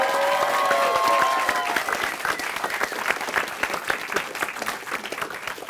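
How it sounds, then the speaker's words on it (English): Audience applause at a university Three Minute Thesis competition, sustained dense clapping from a room full of people, strong at first then thinning slightly as it continues. "So let's give everybody here a round of applause"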